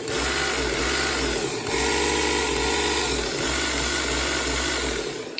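Sinclair C5 electric motor, freshly repaired and running on the bench under throttle with no drive belt fitted, giving a loud steady whine and buzz that surges slightly twice, close up with no talking.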